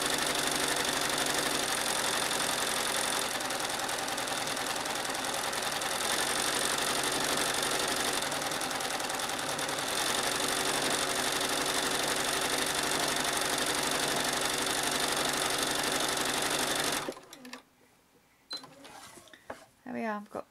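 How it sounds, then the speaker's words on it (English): A sewing machine doing free machine embroidery, stitching ivy leaf veins, running as a fast steady mechanical whirr for about seventeen seconds before stopping, with a voice talking afterward. "we'll sew the veins of the ivy"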